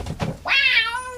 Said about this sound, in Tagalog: Nangisit a pusa ti kalkalabanan.